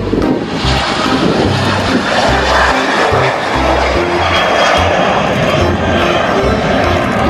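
Toy airplane giving off a steady, loud, continuous engine-like drone that barely changes for the whole stretch.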